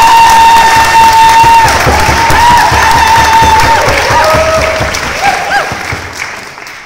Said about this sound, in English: you'll be greeted to a thunderous round of applause